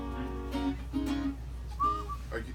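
Short whistled notes, a couple of low tones then a higher one, close by and fairly quiet over a steady background hum.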